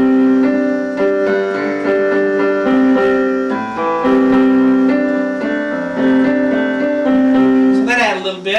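Piano chords from a song lesson, with left-hand bass notes under a repeating upper line, played steadily and clearly for several bars, ending on a brief flourish.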